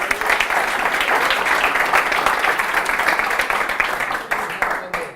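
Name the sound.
audience applause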